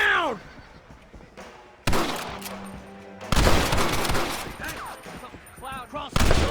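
Red Dead Redemption gameplay firefight, rapid loud gunshots in bursts mixed with horse whinnies, game voices shouting between the volleys.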